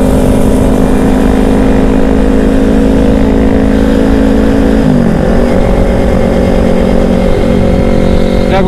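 Motorcycle fitted with a DX Generation Racing undertail dual-silencer exhaust idles loud and steady, its deep harmonic drone dipping briefly midway as the throttle blips, then settling back into a constant close rumble with no voices.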